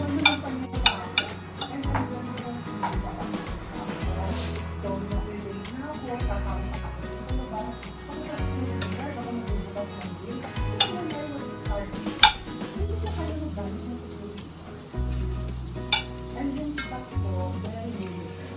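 Mushrooms tipped into a pan and stirred, with utensils clinking and scraping against the metal in irregular bursts, close and fairly loud, while someone speaks throughout.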